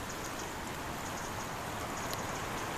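Steady rain falling on a garden, a dense continuous hiss with faint scattered drip ticks, unbroken and moderately quiet with no talking.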